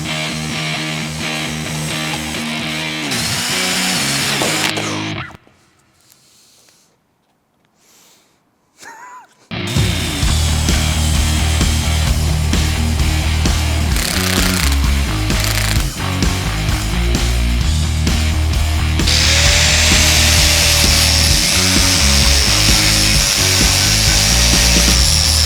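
A power grinder works on a Porsche RWB during a full respray restoration, giving a loud continuous abrasive roar with rising and falling pitch, briefly stopping for a few seconds before resuming steadily and close up.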